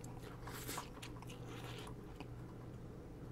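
Someone bites into and chews Nissin Chikin Ramen mini instant noodles, a few soft crunchy bites followed by quiet squishy chewing, close and faint over a low hum.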